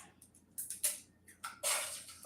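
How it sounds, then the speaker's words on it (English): Bursts of crackling sizzle as an egg fries in hot oil over candles, popping and hissing close by, rising in uneven spurts with a louder sustained hiss at the end. "Did y'all hear that sizzle?"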